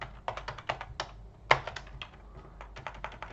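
Someone types ggplot2 code on a computer keyboard at close range. Quick, steady key clicks run throughout, with one sharper tap partway through.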